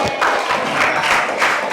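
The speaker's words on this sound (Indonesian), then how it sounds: "Tepuk tangan untuk kelompok 6" Classroom applause for a student group during a coding and artificial intelligence training session, a loud continuous wash of many hands clapping together, steady and close throughout.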